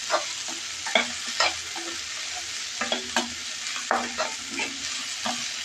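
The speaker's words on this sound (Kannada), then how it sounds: "ನಾನೇನಂದರೆ ಹೆಸರುಬೇಳೆ ಒಗ್ಗರಣೆ ಹಾಕ್ಕೊತೀನಿ," Moong dal tempering in hot oil, a soft steady sizzle with distinct spoon scrapes and stirring knocks against the pan at irregular intervals, no talk.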